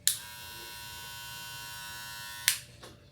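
A steady electric buzz from a Rebel hair clipper runs for about two and a half seconds, starting and stopping with sharp clicks, fairly close and even in tone.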